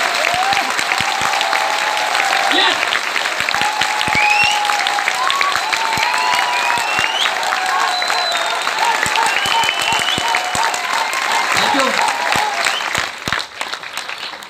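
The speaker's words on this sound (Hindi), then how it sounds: "एक बार एनर्जी के साथ जोरदार तालियों से वापस बैकअप करते हैं सेमिनार के अंदर" A seminar audience in a training program gives loud, energetic applause, a steady dense wash of clapping lasting over ten seconds, with scattered whistles and a shouted cheer before it tapers at the end.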